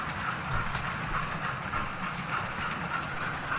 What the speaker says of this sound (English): I've just dipped into some of my recent videos and just taken little bits of trains running.